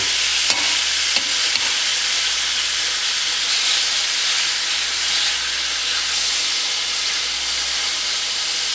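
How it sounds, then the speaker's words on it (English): Beef pieces fry and brown in a hot pan for shredded beef tacos, a loud steady sizzle and hiss with a few small clicks near the start, continuous and close with no talk. "we are roughly going to cook these about 1 minute per side till it's brown"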